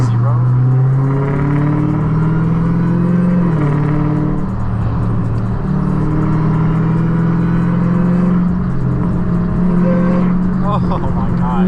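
A Dodge Hellcat engine, tuned to around 1000 horsepower, drones loud and close in rush-hour traffic, its deep exhaust note rising and falling as it revs, with a voice talking over it.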